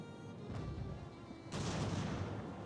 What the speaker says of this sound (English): Volley fire, lads.